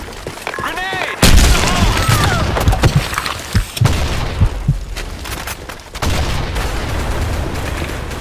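Grenade blast in the Blackshot shooter game, a loud booming explosion about a second in, followed by scattered gunfire thuds and shots amid busy game noise, with voices in the mix.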